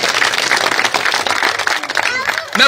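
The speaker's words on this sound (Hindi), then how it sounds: "एक बार मास्टर जी के लिए जोरदार तालियां।" Crowd applause at an outdoor village public rally in Khedi Gujjar, Ganaur, dense clapping throughout, with voices mixed in and a brief lull near the end before it swells again.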